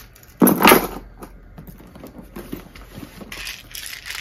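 Keys jangle inside a YSL Medium LouLou handbag in dark beige, a loud close metallic rattle at first, then softer clinks and rustling as the contents are moved.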